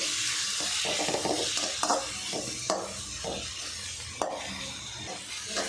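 Salted tomatoes sizzle steadily in a pan while a spoon stirs them in repeated scraping strokes, close and fairly loud, with no voices.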